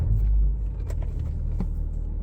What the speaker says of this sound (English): So you do hear those sexy ass diesel noises.